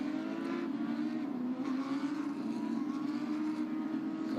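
Porsche Carrera Cup race cars run the 5.15 km Grand Prix layout of the Nürburgring, a steady distant engine drone heard faintly and continuously with no talk over it.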